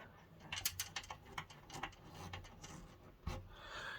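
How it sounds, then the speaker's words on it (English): A screwdriver turns the last screw into the upper port side hull section of a Titanic model kit, giving faint, soft ratcheting clicks and scraping rubs with a sharper tick near the end, heard alone at close range. "Last screw of the issue now, just in here."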